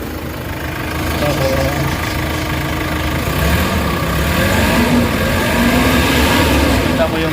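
A Hyundai H100 diesel engine revs up from idle and holds a steady, loud, rough drone at raised RPM, running continuously throughout with a voice speaking over it.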